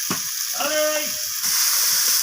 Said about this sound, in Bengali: রসুনটাকে আমি কষিয়ে নিচ্ছি